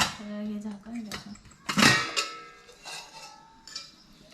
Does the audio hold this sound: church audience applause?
no